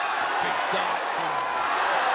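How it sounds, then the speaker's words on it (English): A crowd at a ONE Championship muay thai bout keeps up a constant, loud roar of cheering, with scattered shouts rising out of the dense wash of noise. "the crowd are loving it"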